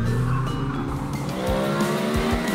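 A cartoon toy pickup truck races off with engine roar and a sharp tire squeal, loud and continuous, followed by quick skidding bursts.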